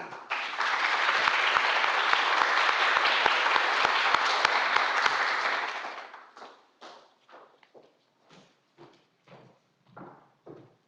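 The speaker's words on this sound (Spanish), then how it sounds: "le pido un fuerte aplauso." A conference audience gives loud applause to welcome a lecturer on women's sexual and reproductive rights, dense clapping for about six seconds that fades into a few scattered thuds and knocks.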